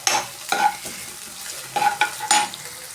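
Coarsely crushed garlic fries in a pan with other ingredients in a home kitchen, bursts of crackling sizzle and scraping stir strokes recurring every half second or so, close and clear without speech.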